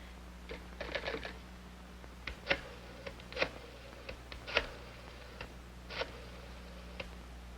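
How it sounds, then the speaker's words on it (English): A 1960 telephone is dialed, giving scattered clicks and ticks with soft whirring pauses between them, faint and close, with no ring or connection tone following. "I dial and nothing happens."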